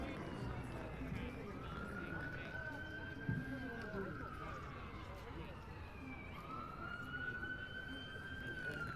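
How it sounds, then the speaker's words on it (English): Police sirens wail in the distance during a nighttime curfew in a locked-down Washington DC, two long rising-and-falling sweeps heard faintly over murmuring crowd noise and street ambience. "You can hear the sirens."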